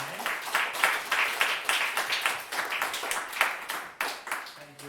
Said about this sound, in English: I would like to give a big round of applause to both Julian and Stefano for coming tonight.